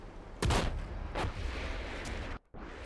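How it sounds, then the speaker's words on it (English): A tank shot in the Silica video game lands as a big explosion: a loud, sharp blast followed by a couple of further booms and rumbling debris, with a brief dropout near the end. "So a big explosion,"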